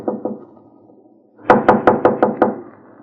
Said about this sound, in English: Now knock.